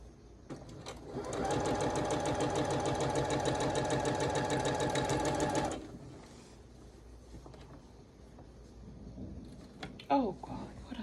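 Sewing machine stitching fabric in one steady, rapid burst of about five seconds, close and fairly loud, followed by quiet handling noises and a brief voice near the end.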